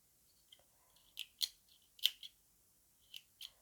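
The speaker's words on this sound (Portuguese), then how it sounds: "vou cortar aqui um pedaço do fio verde" Scissors snipping through a strand of green yarn during crochet work, a few quiet sharp cuts spaced irregularly, close and alone.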